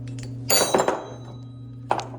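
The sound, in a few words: removing nuts to take bonnet off gate valve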